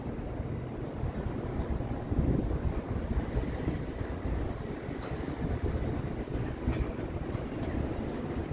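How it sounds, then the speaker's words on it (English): Strong gusting wind whips through the high-rise streets of Toronto's downtown Mink Mile on a Wednesday evening, a loud, continuous roar buffeting the microphone with surges and no speech. "It's so windy, it's ridiculously windy."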